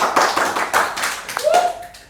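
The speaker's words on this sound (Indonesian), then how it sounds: "Tepuk tangan dulu teman-teman." Small group of people clapping briefly, a short burst of quick, fairly close handclaps lasting about two seconds, with a faint voice sound near the end.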